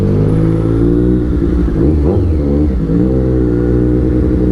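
A motorcycle engine pulls hard through city traffic in the UK, loud and near, its note surging and wavering in uneven bursts.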